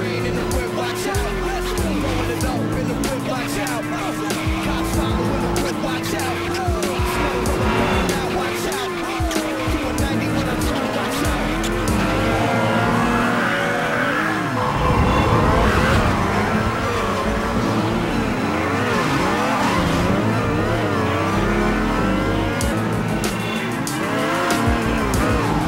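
Race cars in the video game Midnight Club 2, with a steady loud engine roar, shifting revs and tire squeals over the whole stretch, and a voice talking over the game sound.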